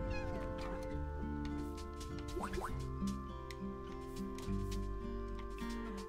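Cats meowing in the cozy life-sim game Cozy Grove, a couple of short rising cries heard amid continuous tonal game music and soft dripping sounds, no talk over them.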